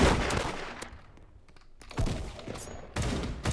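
Bursts of rapid gunfire in the Roblox-style game Da Hood, loud clustered volleys separated by a quieter gap, close and sharp with no talk.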